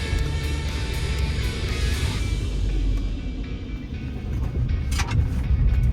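A Honda Element with rebuilt suspension drives along a road with a manual gearbox, giving a steady, loud cabin rumble of engine and tyre noise throughout, with no talking.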